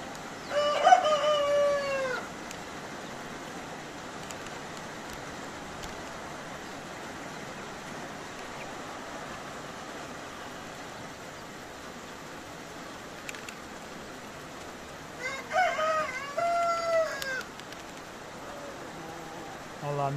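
Hens closed into their coop at evening, with rain falling, cluck and crow in two bursts near the start and again after the middle, over a steady hiss of rain.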